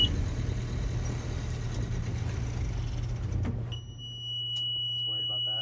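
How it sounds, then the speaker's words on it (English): A boat engine, just bled of air in its fuel system, runs at a steady low idle with a high alarm tone over it, then the alarm cuts out and the idle carries on alone; brief voices appear near the end. "We'll go ahead and fire up the engine, and fingers crossed, the issue's fixed."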